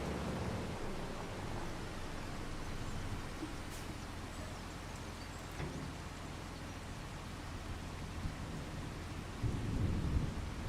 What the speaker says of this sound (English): I'm guessing the rain's going to stop at noon.